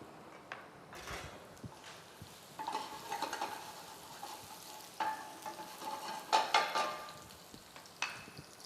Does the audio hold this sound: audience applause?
no